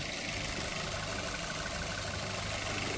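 A 2021 Toyota Glanza car engine idles with a steady low rumble and a faint, even mechanical hum throughout.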